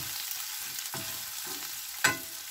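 Steady sizzling of onions and carrots frying in a pan, with a couple of sharper scraping stirs cutting through the continuous hiss.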